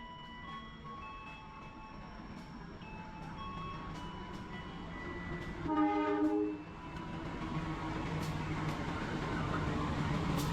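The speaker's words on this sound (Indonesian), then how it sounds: "dan tibalah kereta Ndoho Penataran" Dhoho Penataran train pulling into Mojokerto station, a steady faint rumble of rolling cars with a brief horn-like tonal burst midway and scattered clanks.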